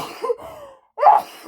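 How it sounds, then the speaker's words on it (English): A person sneezes once up close. A short breathy wind-up is followed by a pause and then a loud, sharp burst. "I just need to sneeze."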